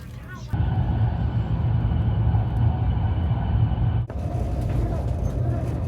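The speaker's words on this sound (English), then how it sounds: "I'm finally in a speed train" Steady low rumble and broadband hum of a speed train in East Taiwan, heard from inside the carriage, continuous and fairly loud, with a brief dip and shift in tone near the end.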